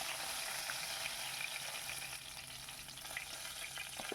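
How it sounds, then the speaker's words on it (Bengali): Bhetki fish pieces frying in hot oil in a pan, a steady broadband sizzle running evenly throughout with a faint low hum beneath and no talking. "মাছগুলো ভেজে আমি সব তুলে রাখছি"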